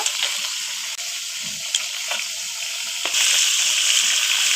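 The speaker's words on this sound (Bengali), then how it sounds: "মাছে তো ডিম হয় নাই শুধু তেল হয়ে গেছে তেল গুলো আমি ভেজে নিব" Fish fat frying in hot oil in a pan, giving a loud, steady close-up sizzle and hiss with a few soft stirring knocks, with no talking.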